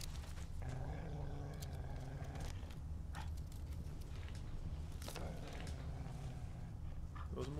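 Dogs or wolves in the game The Witcher 3: Wild Hunt growl low and steadily for several seconds, a continuous rumbling snarl with no talk over it.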